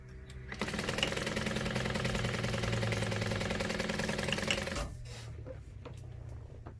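A sewing machine top-stitches a bag in one continuous close run, a rapid mechanical whirring hum lasting several seconds before it stops and leaves quieter handling noise.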